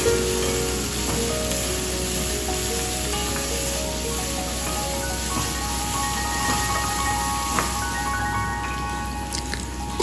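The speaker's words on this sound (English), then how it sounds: "Once the mustard starts spluttering, add curry leaves and onions." Onions, curry leaves and slit green chillies frying in hot oil after mustard seeds splutter, a steady close sizzle with scattered pops and small crackles, no talking.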